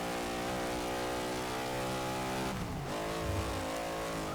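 A car in Forza Motorsport 6 accelerates hard, its engine whine climbing steadily in pitch, dropping briefly at a gear change, then climbing again, loud and continuous with no talking.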